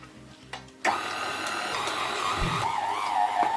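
A stand mixer runs at very slow speed kneading croissant dough, a steady mechanical whir with a low rumble that starts abruptly after a brief quiet moment and continues evenly to the end.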